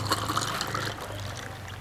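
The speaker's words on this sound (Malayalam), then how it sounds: "നമുക്കിത് ഗ്ലാസ്സിക്ക് ഒഴിക്കാം കേട്ടോ." A blue Curacao drink pours into a glass over ice, a faint, steady trickle with a low hum underneath, heard up close.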